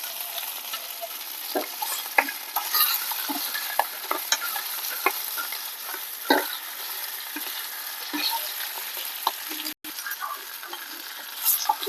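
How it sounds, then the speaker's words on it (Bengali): A katla fish head fries in hot oil with salt and turmeric, a steady close sizzle running throughout with frequent scraping stirs and clicks of the spatula against the pan. "একটু লবণ, হলুদ দিয়ে মাথাটা ভালো করে ভেজে নেব।"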